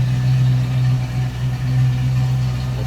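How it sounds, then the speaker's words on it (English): A stock 302 V8 in a 1970 Ford Mustang coupe idling smoothly, a steady low rumble heard close and continuous with slight fluctuations. "nice smooth running engine"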